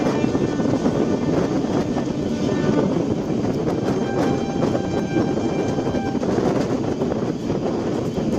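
An express train runs through a station near Thanjavur Junction on the Trichy–Tambaram route, a dense continuous rumble with wheel clatter and faint horn-like tones, loud and sustained throughout, with a little background voice.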